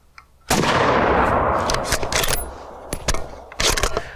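Suppressed 7.62 rifle shots through a Dead Air Sandman-L suppressor: a loud, close sharp report with a long decaying tail, followed by several lighter cracks and a final burst, with no talking.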